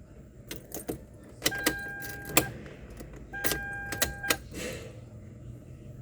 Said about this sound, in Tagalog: Remove the key. Insert the key to the key cylinder.